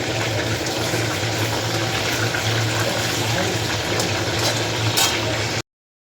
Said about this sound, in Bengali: মাংসগুলো একে একে ভেজে নিচ্ছি আমি।